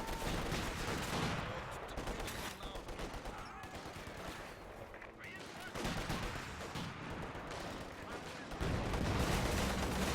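Gunfire in the Company of Heroes 2 strategy game, with machine gun bursts and rifle shots crackling in a dense, continuous battle din, along with heavier booms as tanks fire on a house and a commentator talks over it.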